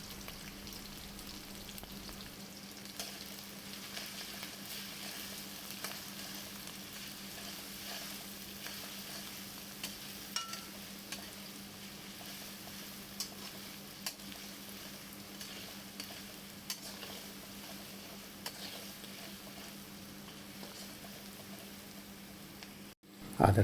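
Chopped ginger and garlic frying in oil in a pan for a Bengali egg and potato dish, a steady soft sizzle with occasional light clicks of stirring, continuing alone until a louder clatter at the very end.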